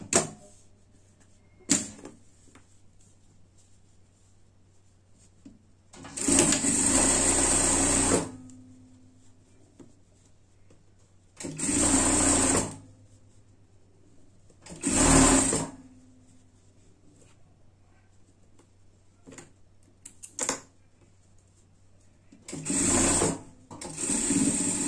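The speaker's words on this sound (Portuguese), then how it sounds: "Vamos pespontar aqui o nosso capuz." A sewing machine topstitches a costume hood for a Minions outfit, running in several distinct bursts of about two seconds each with quiet pauses between them, steady and close with no talking.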